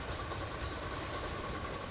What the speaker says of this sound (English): Oh, there's the first iron ore train.